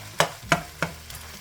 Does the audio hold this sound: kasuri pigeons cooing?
no